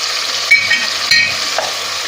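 Tomato paste and pepper paste hit a pot of frying tomatoes, making a loud, close, even sizzle that runs throughout, with a couple of brief clinks of a utensil against the pot.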